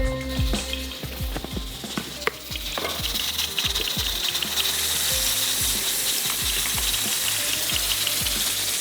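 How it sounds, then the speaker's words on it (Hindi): Masala for egg curry fried in oil in a pan while a spoon scrapes and stirs in quick, uneven strokes, then a dense, continuous sizzle takes over, close and fairly loud, with no talking. "एक दफ़ा और इसको चलाते हैं।"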